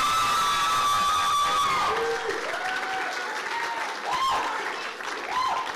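Audience at an awards ceremony cheering and applauding, a dense continuous wash of clapping with whoops and shouts rising over it, sustained and fairly loud throughout.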